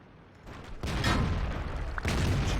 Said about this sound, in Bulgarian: О, има артилерия.